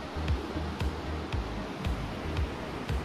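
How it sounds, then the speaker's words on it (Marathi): The Spiti and Sutlej rivers rush together at their confluence in a steady, broad roar of flowing water, with periodic low rumbling thumps, probably wind buffeting, and no talking. "नदीचा फ्लो केवढा मोठा आहे"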